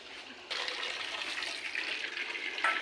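Water runs steadily from a household tap, a continuous hissing splash that strengthens after a brief softer start and holds at moderate level without pause, with no voices over it.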